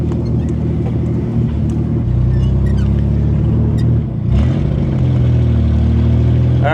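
A Corvair's air-cooled engine runs and revs with the clutch pushed in during a first drive in years, a loud steady drone that dips briefly and rises again from inside the car.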